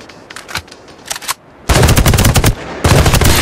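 Automatic gunfire in the shooter game Farlight 84: light scattered shots at first, then two loud, sustained machine-gun bursts with rapid, even rounds up close.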